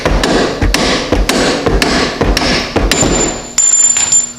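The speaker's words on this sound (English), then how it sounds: "use a soft face hammer to knock the bolts out." Soft face hammer knocking suspension bolts out during an ST coilover install on an SRT4 Neon: rapid, steady series of close, loud thuds, roughly ten blows in a row with metallic ringing near the end.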